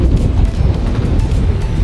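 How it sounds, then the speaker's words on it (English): Strong wind buffeting the microphone outdoors, a loud continuous roaring rumble with gusty low-frequency thumps throughout. "So windy."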